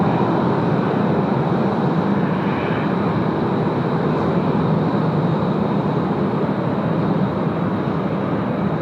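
An All Nippon Boeing 787-9 arriving from Tokyo at Sydney Airport, a steady, loud, broad jet roar that holds constant and unbroken with no voices.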